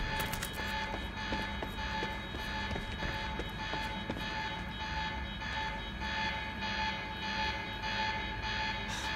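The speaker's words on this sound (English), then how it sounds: "Alarm's not gonna make my life any easier." An alarm sounds continuously during a gala in the video game Quantum Break. It is a steady, sustained tone over dense background noise, holding at an even level for the whole stretch with no voices.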